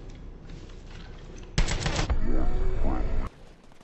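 Minigun firing in a video game, a loud continuous burst of rapid rattling shots lasting under two seconds, with someone talking over the game audio.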